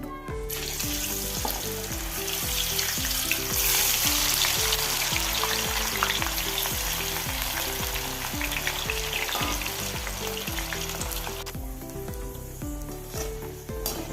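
Banana stem chips fry in hot oil with a dense, continuous sizzle and crackle, loud and close, overlaid by regular rhythmic stirring or scooping knocks throughout.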